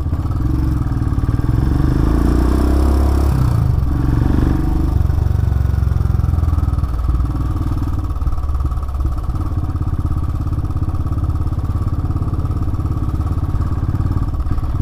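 A 2018 Royal Enfield Himalayan's 411 cc single-cylinder engine runs with a steady, loud, throbbing rumble and mechanical clatter, briefly rising in revs early on before settling into an even drone.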